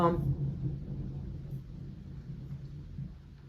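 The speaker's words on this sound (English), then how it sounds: "y'all hear the thunder?" Low, continuous thunder rumbles steadily through the whole stretch, strongest at the start and slowly fading, distant and heavy with no talking over it.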